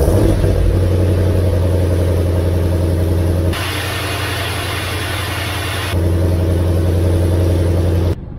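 Supercharged car with a ProCharger, heard close and loud, idles with a deep, steady drone, then revs up into a rising whooshing blower whine for a few seconds before dropping back to idle.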